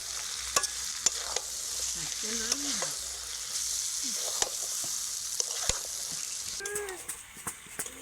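Fish and fried potatoes being stir-fried in a pan, a steady sizzle marked by sharp spatula scrapes and knocks, with someone speaking briefly over it.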